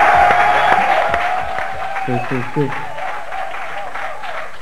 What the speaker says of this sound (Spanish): quiero que reciban con un fuerte aplauso desde España